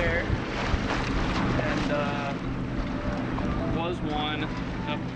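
Wind gusts across the microphone on a sailboat out on a lake on a breezy day, a constant rushing roar with water sloshing beneath, while a person talks briefly over it.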